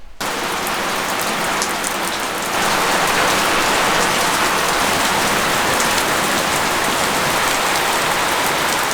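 Heavy rain pours down during a storm in a dense, loud, continuous hiss that starts abruptly and swells a little stronger after a few seconds, with no voices.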